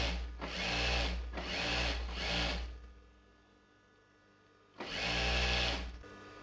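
Sewing machine stitching the crotch seam of a patiala pant, running in three quick loud bursts, falling silent for about two seconds, then buzzing again close up.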